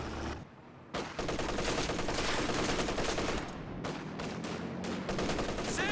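MG34 machine gun fire in Company of Heroes 2, a brief quiet moment then sustained loud bursts of rapid automatic fire mixed with other battlefield shots, continuing densely to the end.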